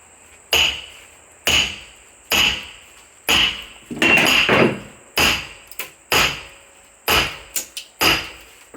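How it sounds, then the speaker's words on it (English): A hammer strikes a metal wedge into a long log about ten times in a slow, steady rhythm, each blow a sharp ringing clang, loud and close. "Hit it with my hammer."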